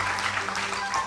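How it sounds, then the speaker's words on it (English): Brief, fairly quiet applause from an audience thanking panelists at the close of a discussion event, a steady patter of clapping throughout. "Please give them a round of applause."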